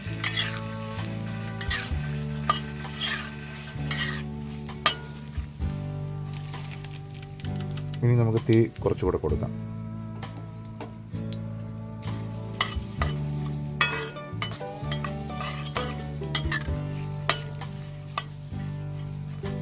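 Curry leaves and chopped dried chillies sputter in hot oil for a mango-ginger pickle, with a close, continuous sizzle, frequent utensil clinks and stirring scrapes, while someone speaks briefly over the cooking.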